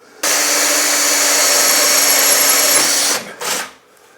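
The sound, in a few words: drill with wax-cored bit drilling holes in tile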